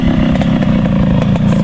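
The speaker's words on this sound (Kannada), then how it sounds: "ಇದು ಸ್ಟಾಕ್ ಸೌಂಡಲ್ಲಿದೆ, ಸ್ಟಾಕ್ ಮಫ್ಲರ್." A motorcycle with a stock muffler idles right beside the listener, its exhaust a loud, rapid, steady burble with slight pulsing and no voices.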